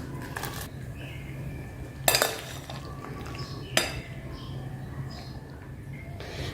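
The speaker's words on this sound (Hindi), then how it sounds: "अब इसे मैं निकाल लूँगी गर्म पानी से छानकर।" Boiled macaroni is drained from hot water in a kitchen, with a few sharp metallic clinks and clatters of pots and utensils over quiet background noise.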